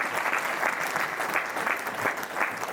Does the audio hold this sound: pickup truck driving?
no